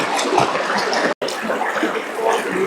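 Clear stream water flowing steadily through a scenic hill creek at Utmachora, a continuous close, bright rushing wash that runs throughout with one brief dropout.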